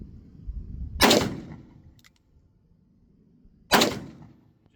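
Two loud, sharp gunshots from a Smith & Wesson 629 Classic Deluxe .44 Magnum revolver with wood grips, fired double action, spaced nearly three seconds apart, each a sudden close blast with a short decaying tail.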